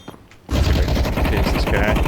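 Rapid automatic gunfire in Counter-Strike 2 begins abruptly after a half-second of quiet and keeps up as a loud, dense stream of close shots through to the end.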